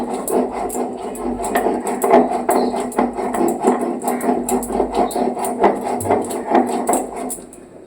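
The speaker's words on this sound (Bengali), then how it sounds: "একটু শিলে বেটে নিচ্ছি" A dry spice paste is ground on a stone slab (shil) with a grinding stone, making steady, loud, close rhythmic scraping strokes that fade slightly at the end.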